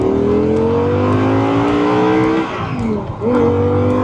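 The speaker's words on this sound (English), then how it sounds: "Nothing beats the sound of the V10 behind your head." Audi R8 V10 engine revving hard and loud, a sustained high-pitched howl that briefly dips and then climbs again.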